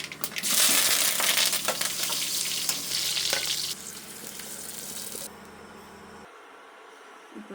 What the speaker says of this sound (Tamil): இப்போ தாளித்து எடுத்துக்கலாம்.